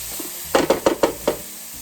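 Stirring chili powder into a sizzling casserole mixture in a pan, with a short run of about five close scraping strokes over a faint background sizzle, no talking.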